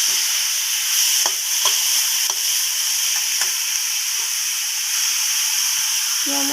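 Ginger and garlic frying with a banana-flower masoor dal in a pan, a steady bright sizzle with occasional scraping stirs of a spoon, heard close and without talk.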